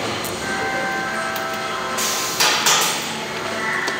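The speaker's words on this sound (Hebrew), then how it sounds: "עכשיו מוציאים את הברגים" Screws are backed out of a folding Integra stadium chair seat with a power driver, a steady whirring hum with a few sharper clicks and rattles near the end, close and fairly loud.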